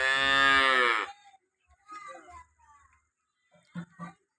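A red cow lets out one loud, close, drawn-out moo at the start, followed by quieter rustling and a few faint voices talking afterward.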